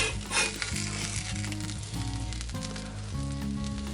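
Caramelized onions sizzle on an outdoor griddle, a steady close frying hiss with faint scraping, no voices.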